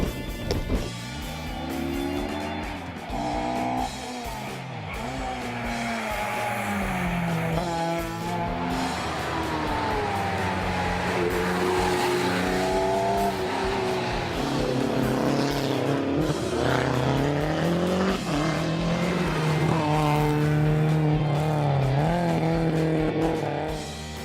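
Rally cars race flat out on a special stage, engines revving and shifting repeatedly with tire squeal and skidding over a long continuous stretch of loud, close motor noise.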